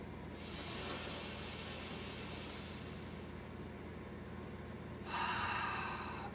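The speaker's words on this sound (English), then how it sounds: "Last breath." A long, deep exhale closes out a yoga breathing round, a steady airy hiss with a fresh rush of breath near the end, close and alone with no talking.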